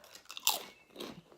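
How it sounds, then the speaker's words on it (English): Crunchy Doritos nacho chips being bitten and chewed up close, two quick sharp crunches about half a second apart, with no talking. "So I've got some Doritos here as well"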